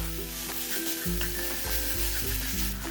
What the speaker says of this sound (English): Stir fry the kimchi for a few minutes.